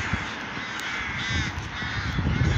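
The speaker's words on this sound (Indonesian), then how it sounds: "Salah satunya burung gagak, elang, campur aduk lah ya, burung besar-besar." Crows caw repeatedly outdoors in Ireland, harsh calls rising over a steady background hum, fairly close and clear with no talking.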